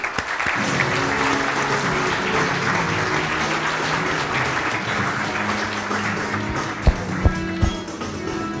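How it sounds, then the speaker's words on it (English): Sustained audience applause for a podcast host at a live Nashville event, dense steady clapping filling the room for several seconds, with a few sharper claps and whoops near the end and no talk. "So huge round of applause."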